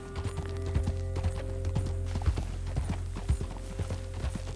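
Horse hooves clip-clop in a steady walking rhythm, close and clear, in the video game Red Dead Redemption 2, with a low hum under them and no talk.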